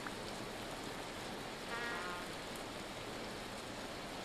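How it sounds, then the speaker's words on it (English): Hail pelts the ground in the game Vintage Story as evening darkens, a steady dense patter of falling ice heard alone at moderate loudness with no voices. "It's hailing!"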